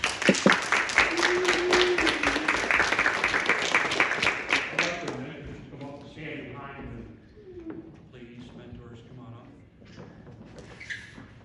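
A church congregation applauding at a baptism, dense clapping for several seconds that fades out, followed by a voice speaking.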